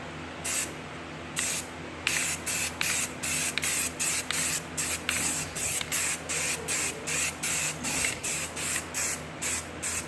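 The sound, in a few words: spraying Rustoleum NeverWet coating on an ATV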